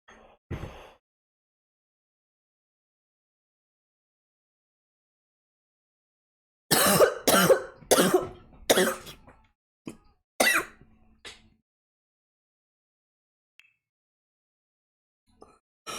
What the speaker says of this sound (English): If you hear coughing,